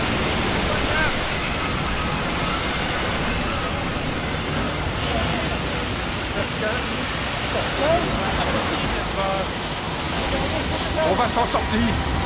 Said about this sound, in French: Les vagues sont trop fortes!